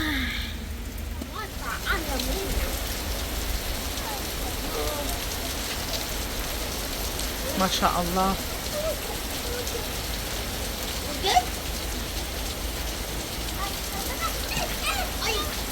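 Heavy storm rain pours steadily onto surfaces outdoors, a dense constant hiss, while a voice briefly speaks over it.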